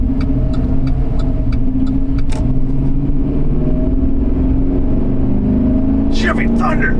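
A Chevy truck engine rumbles loud and steady from inside the cab while driving on the road, a continuous low drone with slight rises in pitch and a brief rattle near the end.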